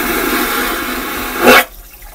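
A vacuum toilet on a cruise ship flushes with a loud, close rushing whoosh that swells into a sharp suction burst, then cuts off abruptly into near silence.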